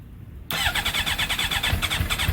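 GSX-R motorcycle engine fitted after an engine swap starts up after a brief crank and settles into a loud, close, steady idle, with a rhythmic pulsing and no talking.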